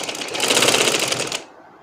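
A sewing machine stitches a seam in dress fabric, giving a loud, close, rapid whir for just over a second before cutting off.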